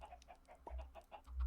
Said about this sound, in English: Alright, chickens have been fed.